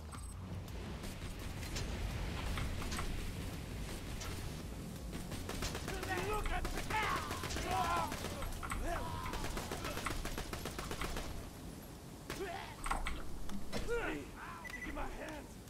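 Gunfire in a video game, with bursts of shots crackling over a steady mechanical din and game noise, fairly busy throughout with a few sharper volleys near the end; a voice talks now and then.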